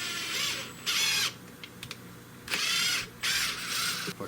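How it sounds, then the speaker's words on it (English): A screw is driven into a new wooden gun stock for a Spanish-made Richland Arms 20 gauge shotgun, cutting its threads in bursts of scraping, ratcheting grind separated by short pauses, close and clear with no talking. "I always cut my threads in."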